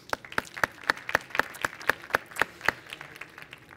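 Audience applause at a city planning sustainability session, a steady run of sharp, evenly spaced claps rising and falling in bursts, fairly close and clear with no talking over it.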